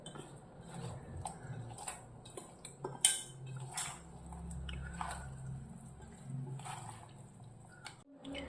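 Fish pieces tossed and mixed with masala for fish pickle, soft wet squishing and occasional clinks of utensil on a bowl, quiet and close with no voices.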